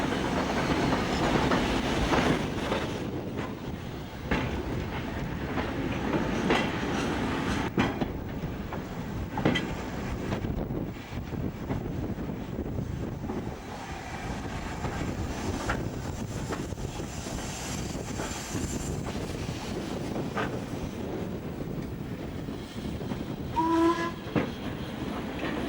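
East Lancashire Railway steam train running near Bury, a steady rumbling roll with rhythmic wheel clatter and wind buffeting the microphone, continuous and fairly close throughout.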